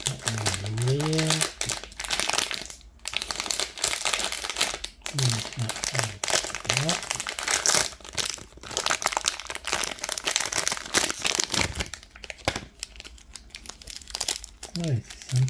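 Package wrapping on a Disney mini figurine mystery box crinkles and rustles almost nonstop, close to the microphone, while someone talks over it.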